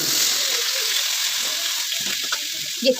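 Potatoes fry in a small amount of oil, giving a steady, bright sizzle that hisses throughout, with a few soft clicks and a brief knock near the end.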